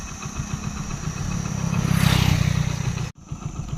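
A motorcycle engine runs steadily while riding on a hot day, a loud low throbbing with a rising rush of wind or revving midway, then a brief sharp cut before the engine note returns.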